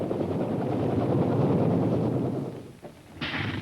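An early RAF helicopter in flight, a steady loud rotor and engine roar that fades briefly near the end before a hissing surge returns.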